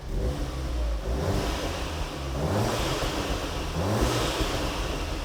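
An Audi S3 8V with a straight-pipe exhaust idles with the valves closed, a deep, steady rumble throughout, low and even with slight swells, fairly quiet with a breathy hiss on top.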